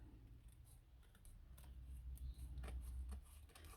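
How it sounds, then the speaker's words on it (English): Scissors snip through material while a miniature tree house carnival room is assembled, a quick run of small close, crisp cuts with soft rubbing between them and no talking. "I'm going to try and snip that rather than cut it."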